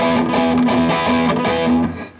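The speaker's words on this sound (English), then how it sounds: "And you get to have lots of distortion on your guitar." A loud, gritty distorted electric guitar plays a short chugging Spanish metal riff of sustained chords, then the sound fades away at the end.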